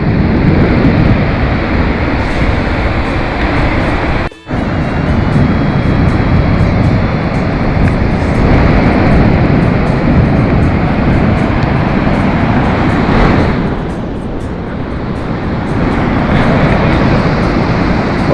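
Continuous broadband surf of ocean waves on a Casablanca beach, a loud, steady wash with slow swells and a brief dip partway through, and no talking.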